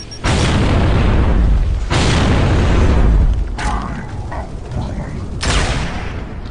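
Grenade explosions in the video game Gears of War 3 during a tournament match: loud, heavy booms burst out three times, each decaying into a rumbling tail.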